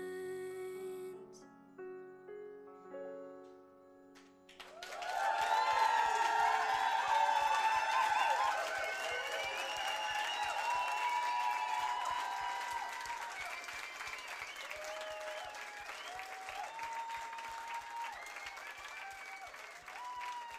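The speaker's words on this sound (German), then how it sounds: "Großen Applaus" Audience applause with scattered cheers and whoops erupts loudly after a song performance and carries on steadily, while sustained musical tones and a voice continue over the clapping.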